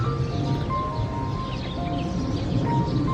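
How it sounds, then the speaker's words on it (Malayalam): Birds chirp in a wooded nature reserve, with several thin tonal calls and whistles repeating over a steady background of rushing water and leaves. "കിളിയുടെ സൗണ്ട് കേൾക്കണ്ടോ മിയ?"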